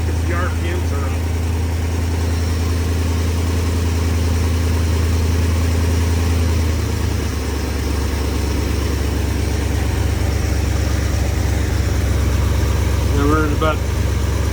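A 1969 Dodge Dart engine, revived after sitting for 22 years, runs at raised RPM with its ignition timing being set, a loud steady drone throughout while people talk over it.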